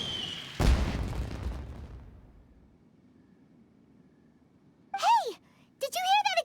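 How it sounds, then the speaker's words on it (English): A deep boom bursts early and rumbles away into near silence, then a character's voice chirps briefly near the end. "Did you hear that explosion?"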